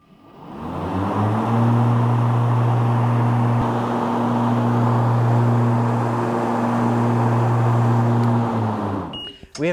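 Ryobi RM480e 38-inch battery electric riding mower engaging its blades, a loud steady whirring drone with strong tonal hum that spins up, holds for several seconds, then winds down abruptly at the end.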